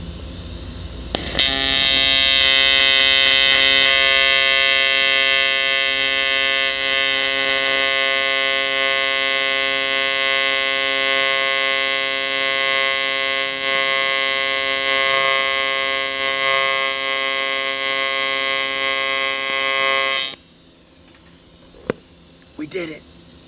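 Steady electric welding arc at a fabrication shop: a loud, unbroken buzzing hum that holds for about twenty seconds and then cuts off abruptly, leaving near quiet with a few faint clicks.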